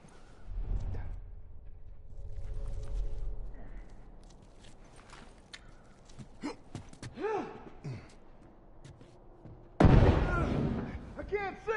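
Bombs exploding in the video game The Last of Us, with a muffled rumble early on, scattered thuds and rustling, then a sharp loud blast near the end, with breathy gasps and vocal sounds mixed in.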